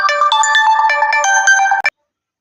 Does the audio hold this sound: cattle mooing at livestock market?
no